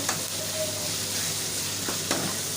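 Sliced onions fry in palm oil in a home kitchen, giving a loud, continuous sizzle and crackle close to the listener, with a couple of brief stirring scrapes and no talking.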